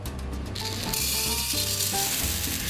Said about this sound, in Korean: 예열을 통해 로스터 기계의 온도를 높인 후 생두를 투입한다